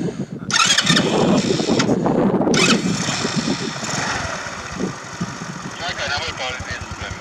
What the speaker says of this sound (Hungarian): To je taj skuter koji ne ide nikuda.